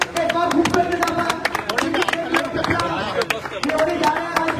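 An audience at a poetry gathering claps in a dense patter of scattered claps, with voices talking over it.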